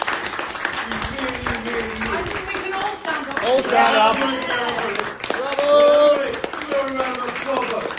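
Applause and standing ovation from an audience at a House of Lords event on AI and technology, steady clapping running throughout while someone speaks over it, urging everyone to stand and calling out bravo.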